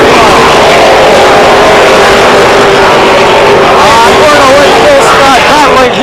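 Stock cars accelerating at the start of an ACT International Series race at Riverside Speedway in 1993, a loud continuous engine roar with rising revs and a commentator talking over the noise.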